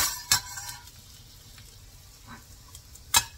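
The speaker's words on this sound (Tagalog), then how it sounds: "Medyo pabanguhin mo yung bawang." Garlic sautéing in a pan for a menudo, a soft sizzle running throughout with a few sharp clinks of a utensil against the pan, close by and fairly quiet.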